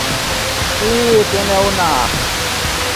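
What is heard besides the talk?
large waterfall, about 25 metres high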